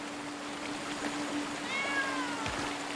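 A cat in the Blacktail video game meows faintly twice over a quiet background with a soft trickling of water and a thin steady tone.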